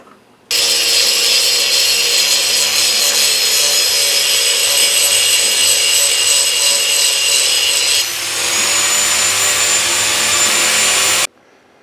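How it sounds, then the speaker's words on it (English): An angle grinder runs steadily against a steel sword blade for a full-size Dragonslayer build, a loud continuous high whine and rasp that shifts pitch slightly partway through, heard alone without talk. "So this is after the angle grinding."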